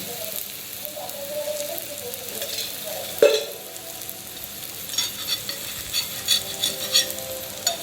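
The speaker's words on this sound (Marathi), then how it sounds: "आता हे थालीपीठ व्यवस्थित शिजून द्यायचं थोडा वेळ." Thalipeeth flatbread frying in a little oil on a griddle, giving a steady close sizzle with one sharp clink partway through and a few crackling pops toward the end.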